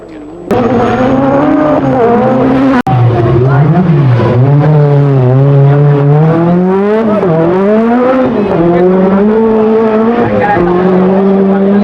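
A Peugeot 205 T16 Group B rally car engine runs loud and close for about twelve seconds, its pitch rising and falling continuously as the revs climb and drop, with a brief sharp break near the start.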